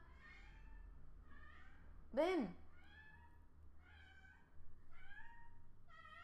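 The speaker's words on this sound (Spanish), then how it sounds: "Esa es mi gata que quiere que juegue con ella y cuando quiere que juegue con ella siempre maulla así." A female pet cat meows repeatedly, wanting to be played with, close and clear in a quiet room, with one louder cry in the middle; a woman calls to the cat once.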